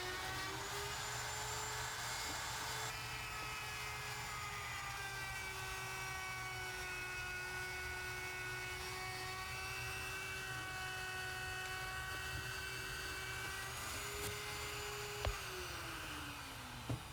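A router cuts mahogany for a liquor cabinet with a steady, droning high whine and layered overtones that hold for the whole stretch, then sag slightly in pitch near the end. A faint tap or two sounds underneath.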